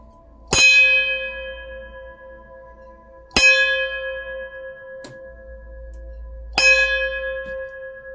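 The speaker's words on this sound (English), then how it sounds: "Bells." Church bell strikes three times at slow, even intervals, each a loud ringing clang with a long decaying metallic hum, alone with no talk.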